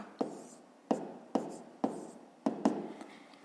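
A pen writes a maths equation in a series of six sharp scratchy strokes, each with a crisp attack and short decay, close and fairly quiet.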